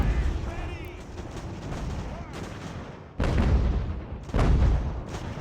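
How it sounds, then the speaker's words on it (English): Artillery in Ultimate General: American Revolution pounds away, rolling cannon fire punctuated by two heavy booms near the end, with a commentator talking over the barrage. "We're getting peppered by their artillery though"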